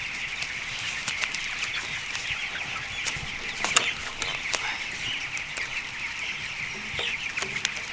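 Chickens cluck and murmur inside a chicken house, a dense, steady chorus of soft mid-pitched calls with occasional sharper squawks, moderately near and continuous throughout.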